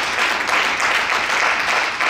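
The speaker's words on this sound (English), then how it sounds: "Let's give the Lord a hand praise for his word." A church congregation breaks into sustained applause, with dense, loud, even clapping from many hands and a few voices faintly mixed in.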